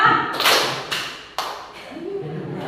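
Group clapping in a concentration game with parents, three or four sharp, loud claps in a row, each followed by a short ring; a voice speaks faintly near the end.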